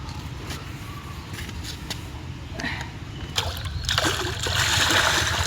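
Hot water splashes and pours during a winter bath, a continuous rushing spatter that swells louder toward the end.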